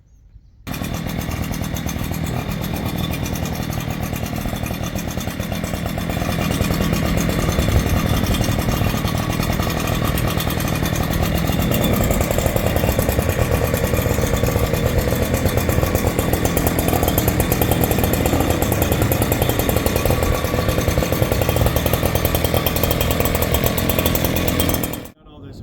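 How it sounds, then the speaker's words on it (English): Leaf blower on a low setting blowing dust off a paver patio after polysand, a continuous steady engine whine and rushing air running nearly the whole time, close and loud. "we're going to take our blower, and on a very low setting, we're just going to lightly blow the dust off of the patio"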